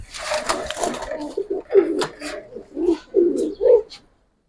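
Giribaz and colouring pigeons coo nearby in a series of soft, throaty pulses, with some rustling at the start.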